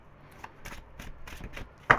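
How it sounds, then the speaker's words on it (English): Tarot cards are shuffled in a few quick riffling bursts, close and crisp, ending with a sharper snap; no voices. "3 shuffles."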